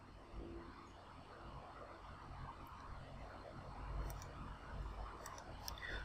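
A computer mouse clicks on a recycle bin icon, a few faint, sharp clicks late on over a low, steady background hum.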